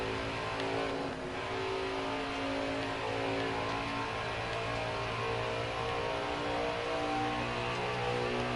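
Stock car engines in the NASCAR Heat 4 video game drone steadily at high revs at Pocono Raceway, a loud continuous roar that holds without a break.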